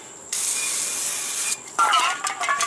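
New brake rotor sprayed with cleaner to remove its grease coating, a loud hiss lasting over a second followed by a wetter, scratchy spray burst, close by with no talking.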